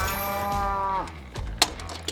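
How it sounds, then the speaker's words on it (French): A cow lets out one drawn-out low moo that sinks in pitch toward its end, followed by a few faint clicks and knocks. "Vache."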